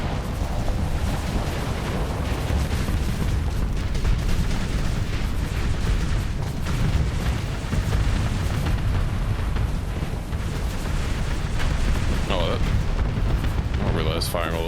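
Missiles launch repeatedly from a ship in a space battle video game, a dense run of booming blasts and rumbling detonations that stays loud throughout, with a few brief thin whistles near the end.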